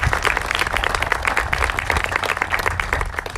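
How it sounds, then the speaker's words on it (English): An audience claps steadily through an Eagle Scout Court of Honor ceremony. The applause is dense and sustained from start to finish, with no break and no voices above it. "I know we've already given you applause, but I want to give applause again."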